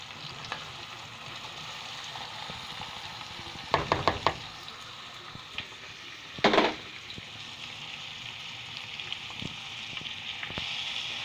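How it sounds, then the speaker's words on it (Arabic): Onions sautéing in a mix of oil and ghee for stuffed cabbage, a steady soft sizzle with a few louder bursts of stirring and spoon clatter, no voices. "هنفضل هنقلبها كده، وبعد كده هنسيبها لحد ما البصلة تتشوح شوية في الزيت مع السمنة"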